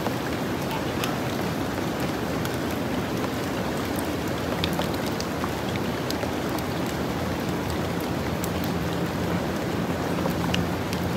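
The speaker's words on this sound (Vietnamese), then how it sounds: "Tầm mới giờ quay là mưa tới" Steady rain falls in a mountain forest, making a dense, continuous hiss with scattered sharper drops and a low rumble underneath, unbroken for the whole stretch.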